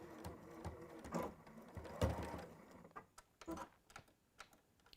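A sewing machine stitches fabric with quiet, uneven mechanical clicking and whirring, close by, with no talking.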